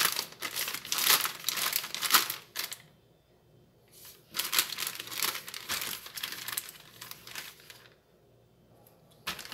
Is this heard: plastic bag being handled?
yes